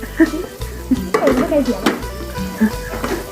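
Mussels cooking with garlic in hot oil in a pan, with bursts of sizzling, clinks of utensils against the pan and brief stirring noises, close and fairly loud, with some voices and background noise mixed in.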